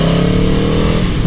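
A motorcycle engine revs hard on a highway ride, a loud, close, steady roar with a strong low drone through the whole short burst and no voices.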